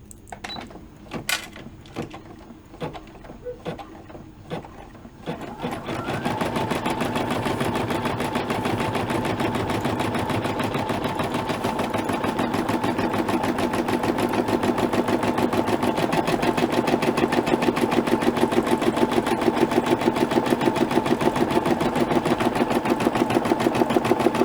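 An in-the-hoop embroidery machine stitches the outline of a small crayon pouch: a few sparse clicks at first, then a steady, rapid mechanical needle chatter that runs continuously at close range.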